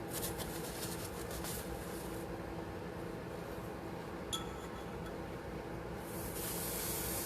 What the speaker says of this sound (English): Oh, we're about to boil over.